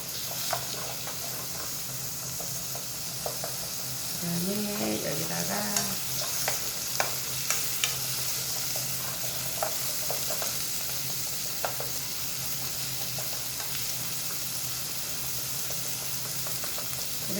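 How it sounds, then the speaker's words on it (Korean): Radish sizzles as it is stir-fried in a pot for a winter soup with oysters, radish and cabbage. A steady soft frying hiss runs throughout, with faint scattered clicks of stirring. "이렇게 볶으면 무에서 단맛이 나오니까 더 맛있어요"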